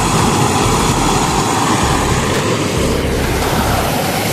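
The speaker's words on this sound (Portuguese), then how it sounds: "Olha só o som da água." Loud, steady rush of flowing stream water, a dense continuous roar close by with no voices.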